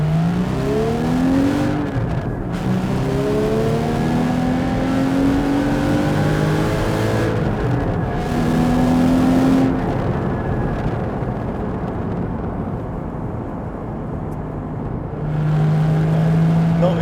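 Engine of a 2015 Porsche Cayman 981 GT4 pulling hard through the gears up to fourth, with loud, close rising revs that drop sharply at each upshift before climbing again, continuous throughout.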